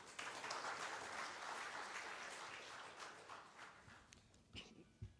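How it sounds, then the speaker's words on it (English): An audience at a pharma industry workshop applauds a speaker with dense, continuous clapping that stays faint and distant, thinning out near the end into a few scattered claps. "Requesting all the members to give a big applause once again to the legendary personality of the pharma industry"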